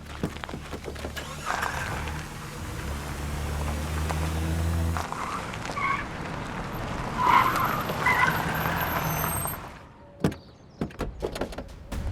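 A car tears away with tires skidding and screeching, then the engine roars and a door slams amid rising revs, ending in a brief lull and scattered thumps, fairly loud and close throughout.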